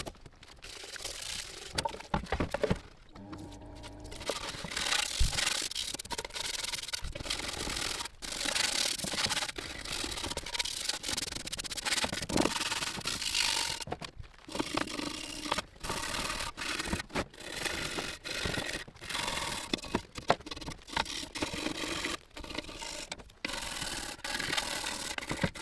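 Scotch-Brite pad scrubbing old paint off a BMW M10 oil sump: close, continuous rough rubbing strokes in an irregular back-and-forth rhythm with brief pauses, heard alone.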